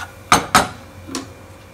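Turmeric and Kashmiri red chili powder mixed into a pan for baingan masala: two sharp metallic scrapes close together, then a softer third scrape, spoon against pan, with no talking.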